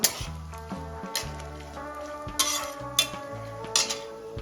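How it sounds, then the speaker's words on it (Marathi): Dried fruits, charoli and pistachios, are stirred and toasted in a pan for vermicelli kheer, with soft scraping and light clicks of the spoon over quiet background music. "हे सर्व साहित्य पण आपल्याला परतून घ्यायचं आहे"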